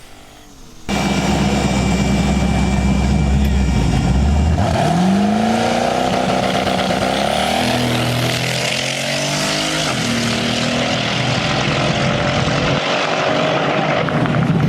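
A 700 HP Mazda RX-7 drag car launches hard on a test pass, its engine roaring loud and sustained, the pitch climbing through gear changes as it pulls away down the strip.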